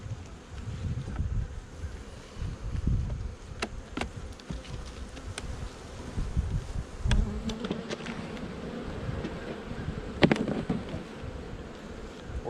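Honey bees buzz around an opened hive, a dense low hum of many wings with individual bees zipping close past in sharp brief passes, set against light wind outdoors.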